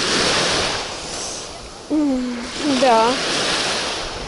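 Sea waves wash steadily against the shore in a broad, continuous hiss of surf, while someone speaks briefly in the middle.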